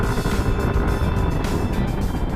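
A loud motorcycle passes on a wide highway during a motorcycle ride, heard as a steady roaring engine drone mixed with wind and road noise, holding strong throughout without clear breaks.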